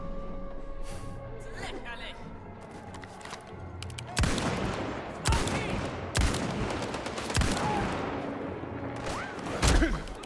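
Gunfire in the video game Indiana Jones and the Great Circle: loud sharp shots burst out in irregular bursts over a noisy in-game background, with talk heard in places.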